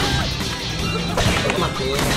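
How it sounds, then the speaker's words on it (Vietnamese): Explosions and smashing impacts from a mobile game boss fight, with bombs kicked into the boss's face in Tom Gold Run, a dense burst of crashing game effects layered with music and effects throughout. "mình sẽ tiêu diệt nó bằng cách đá những quả bom vào mặt"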